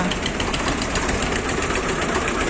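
A tractor engine idles steadily close by, its low rumble and rapid knocking pulse holding even throughout with no voices.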